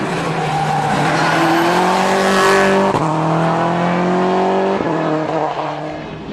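A WRC rally car, driven by Grönholm, powers through a Catalunya asphalt stage in 2002. Its engine is loud and close, rising in pitch and breaking sharply at two gear changes, with a hint of tyre scrub.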